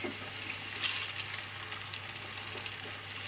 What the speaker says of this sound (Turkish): havuçlarımızın üzerine soğanlarımızı da ilave ediyoruz